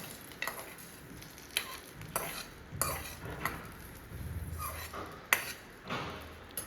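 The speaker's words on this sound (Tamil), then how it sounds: "நம்ம தாளிப்பு எடுத்து சட்னியில் கொட்டிடலாம்." Mustard seed and curry leaf tempering is poured into bitter gourd chutney and stirred, giving quiet scrapes, soft sizzles and light clinks of a spoon against a pan in short bursts.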